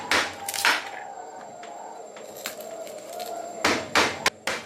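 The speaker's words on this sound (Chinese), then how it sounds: "下面再把这个玉米，我们给它切成块儿" Corn being chopped into pieces with a cleaver at home, a handful of sharp, close thwacks spaced unevenly, with two quick strikes at the start and a cluster near the end.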